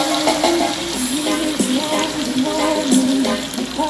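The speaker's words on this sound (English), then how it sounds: "Alright, I'm adding water." Water pours steadily into a pot of tomatoes and chicken feet adobo stew, a continuous splashing rush with faint sizzling underneath, close by and fairly loud.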